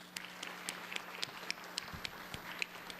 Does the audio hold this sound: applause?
yes